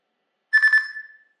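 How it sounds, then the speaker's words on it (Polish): A PK Simplex+ device gives its hard-reset beep signals: a quick burst of several pulsed electronic beeps that runs into a fading single tone, with nothing else heard. "trzymamy wciśnięte oba przyciski do momentu, aż te sygnały nie zostaną wygenerowane"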